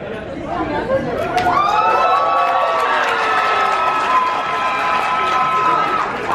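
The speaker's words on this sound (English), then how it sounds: "clap and scream and go crazy as loud as you can for them" A large crowd at a Hmong national conference cheers wildly, with sustained high screams and whoops over a loud wash of clapping and chatter that stays intense throughout.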